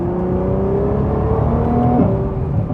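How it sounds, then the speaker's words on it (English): A 2020 Nissan GT-R 50th Anniversary Edition accelerating hard around a corner, its engine note climbing loud and whirring from the cabin, then a brief dip as the pitch shifts near the end. "I'll give it the beans around this corner"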